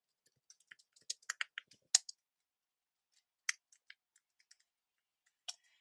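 Sparse, crisp key clicks from a computer keyboard come in short irregular clusters separated by pauses, close and quiet against near silence, with no talking.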